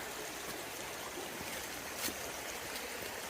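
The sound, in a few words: small waterfall runoff stream flowing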